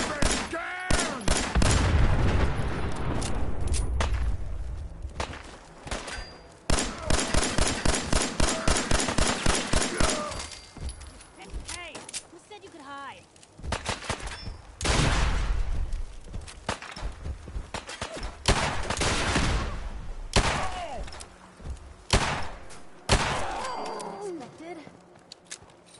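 Rapid bursts of heavy hand cannon gunfire in Fallout 4 crack repeatedly in a chaotic fight, with loud impacts and shouting voices mixed throughout.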